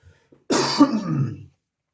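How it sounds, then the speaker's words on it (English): A single harsh cough or throat-clearing burst, close and loud, lasting about a second, with silence before and after. "excuse me for that cough."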